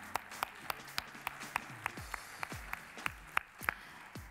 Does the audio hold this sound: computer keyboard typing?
no